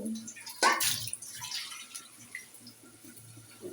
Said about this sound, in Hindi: चलो इसमें पानी डालना पड़ेगा